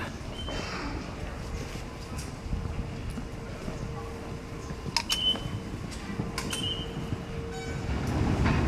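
Train at a deep underground private non-JR railway station in Tokyo, a steady rumble with brief squeals and clanks through the middle, growing louder toward the end.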